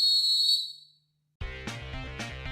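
A single shrill, sustained whistle blast cuts off into a second of silence, followed by loud music that starts abruptly.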